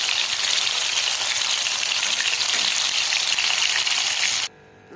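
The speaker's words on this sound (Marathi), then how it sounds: "कारले असा रंग येईपर्यंत छान रंग येईपर्यंत आपण कारलं तेलामध्ये तळून घेणार आहोत" Bitter gourd deep-frying in hot oil, a loud, dense, steady sizzle and crackle that fills the clip before cutting off abruptly near the end.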